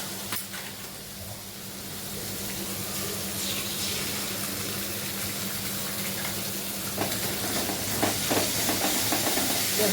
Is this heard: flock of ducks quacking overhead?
no